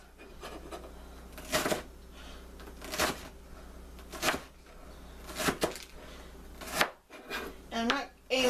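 Knife chopping food into rough cubes for a crock pot split pea soup, with a series of sharp, spaced board strikes and a quicker cluster near the end.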